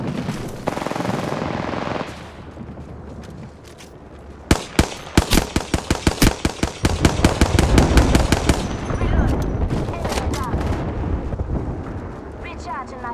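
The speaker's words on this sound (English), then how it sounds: "Watch an airstrike." Airstrike explosions in the Apex Legends video game, a rapid barrage of loud sharp blasts in a tight rhythmic string, after quieter rumbling and before a sustained roar as the impacts die away.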